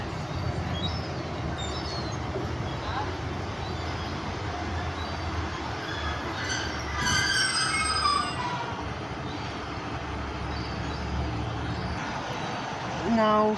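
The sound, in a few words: Great Western Railway passenger train departing Dawlish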